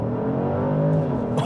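2024 Genesis GV70 3.5T Sport Prestige launching hard in Sport Plus for a 0-60 run, a loud close engine roar rising steadily in pitch over a brief burst.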